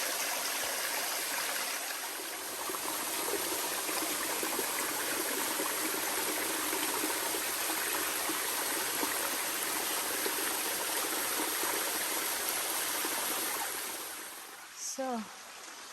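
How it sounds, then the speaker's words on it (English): Small Grotto waterfall stream with little water flowing, a steady close rushing and trickling wash that continues unbroken, with a brief voice near the end. "And this is the Grotto waterfalls."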